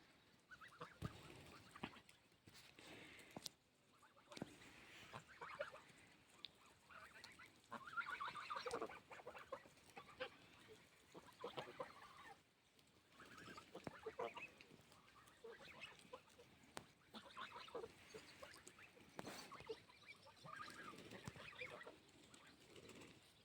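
Geese honking repeatedly from a short distance, a loose chorus of calls coming and going over a quiet outdoor background.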